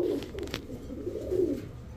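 Gola pigeons coo in low, throaty, rolling calls while being shown for sale, a steady murmuring coo running throughout over faint background noise.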